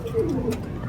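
Pigeons on a rooftop loft coo in low, soft throaty murmurs, a steady close burble of several birds.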